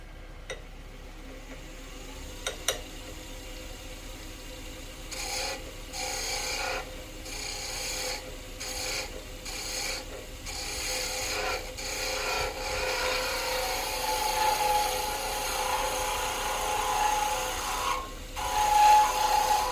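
A skew chisel takes a fine planing cut on wood spinning on a lathe while shaping a calligraphy dip pen. Close, steady rasping hiss runs in strokes with short pauses, and no one speaks.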